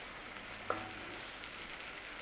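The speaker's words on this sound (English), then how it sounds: "Cook out the rawness of the flour in there with the onions. A bit of a sizzle whizzle going on in there, look." Onions and flour sizzle softly in a pan, a faint, even frying hiss with one brief clink partway through.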